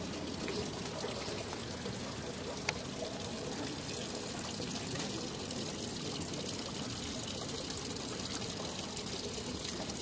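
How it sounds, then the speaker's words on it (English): Water poured steadily as part of a live musical performance, a continuous trickling, splashing wash that fills the whole stretch at an even level with no talk over it. "the sound of the water is part of the piece."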